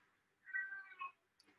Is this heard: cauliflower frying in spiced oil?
no